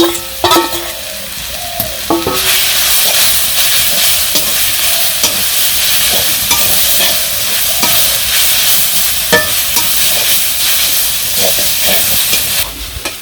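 Steady, loud sizzling of greens frying in a pan, with occasional stirring scrapes and clinks, continuing without talk for the whole stretch.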